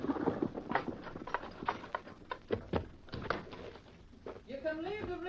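In an old radio drama, horse hooves clip-clop in an uneven run of hollow knocks that grows louder, then softer, beneath spoken dialogue.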